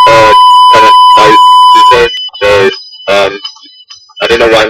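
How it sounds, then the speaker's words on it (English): A steady high-pitched censor beep tone runs for about two seconds over a talking voice, then speech continues alone in loud bursts. "I'm going to play a beep over it."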